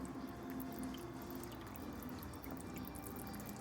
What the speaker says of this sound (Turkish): Üzerine hemen biraz daha zeytinyağı gezdiriyorum suyumu ekliyorum.